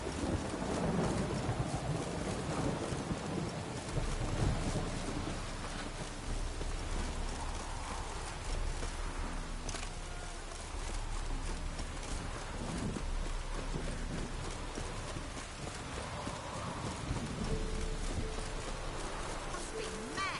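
Steady heavy rain pours throughout, with low rumbles of thunder rolling underneath; a constant, dense wash of sound with no talk.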